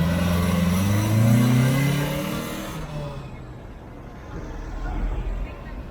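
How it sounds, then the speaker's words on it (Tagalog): A 1997 Toyota RAV4 with a stock muffler revs up once with a rising engine note, then settles back to a low idle rumble, heard close. "Diretso sa stock muffler pa rin. Stock muffler para may konting garalgal lang. Sound check natin."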